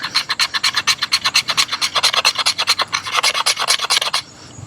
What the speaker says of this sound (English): let's just see about scraping the fat wood